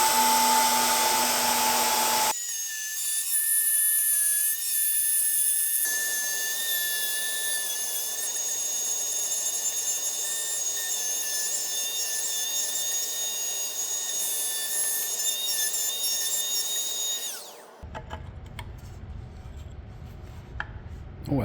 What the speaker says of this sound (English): Now that's as deep as my router is going to go, so take the template off and let the bearing run along my actual wood here.